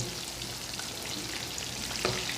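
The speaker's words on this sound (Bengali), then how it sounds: "আলু উলাই দিচ্ছি, এখন মাছ উলাই দিতেছি। মাছটা একটু কড়া করে ভাজব।" Potato and fish pieces frying in a pan, a dense continuous sizzle heard up close with a faint scrape near the end.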